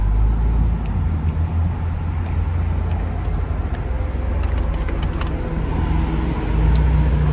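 A 2021 Ford Bronco Wildtrak drives along, its steady low engine and road rumble loud and continuous inside the cabin, with no one talking.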